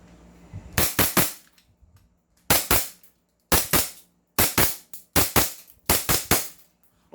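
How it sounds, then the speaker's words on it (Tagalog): Five close, loud bursts of pistol fire from a compact 2011 3.8 handgun at a range, each volley a quick cluster of sharp cracks separated by brief pauses, with no talking. "Firing po tayo."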